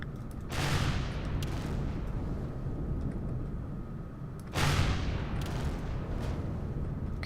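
Cannon fire and explosions in the Empyrion space survival game, with two broad booming bursts roughly four seconds apart over a steady rumbling ambient bed.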